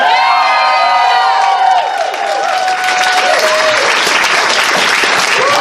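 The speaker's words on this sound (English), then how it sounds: "give a huge round of applause for Addie" Loud crowd applause and cheering with whoops at a furry convention dance competition results announcement, sustained clapping over the music that plays beneath it.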